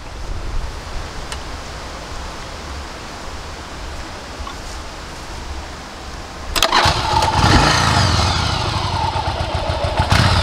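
A Yamaha XV1100 Virago motorcycle sits quiet against faint background hiss, then its starter engages and the engine abruptly catches. It settles into a loud, close, rumbling idle.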